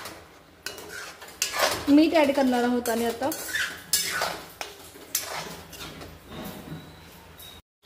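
A spoon stirs dal tadka in a kadhai, clinking and scraping against the metal pan in a busy run of knocks while someone talks over it.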